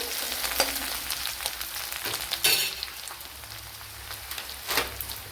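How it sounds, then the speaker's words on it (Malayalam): Ginger and about ten cloves of garlic fry in a pan for duck egg curry, a steady close sizzle and crackle with occasional stirring scrapes and no talk. "ഒരു ടേബിൾ സ്പൂൺ ഇഞ്ചി പത്തല്ലി വെളുത്തുള്ളി ഇത്രയും ചേർത്ത് കൊടുക്കാം"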